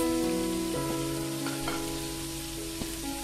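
Continuous bubbling and sizzling of broth at a boil in a pot for patin fish asam pedas, steady and close with faint tonal hum underneath and no talking.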